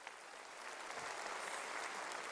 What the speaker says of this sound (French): Merci de l'applaudir encore plus fort.